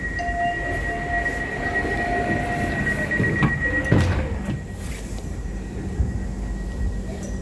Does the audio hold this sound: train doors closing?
yes